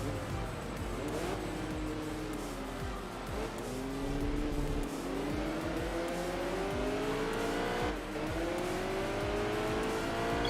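A race car in Enthusia Professional Racing revs hard under aggressive throttle, its engine pitch sweeping up and down through gear changes with tire squeal mixed in, loud and continuous for the whole stretch.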